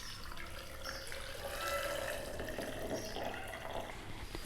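Water being poured from a cup into a blender jar of frozen strawberries for a strawberry milkshake, a steady close splashing trickle lasting a few seconds, heard alone without talk.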